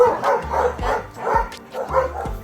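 A dog barks repeatedly in a steady rhythm, about half a dozen close, full-throated barks with no one speaking.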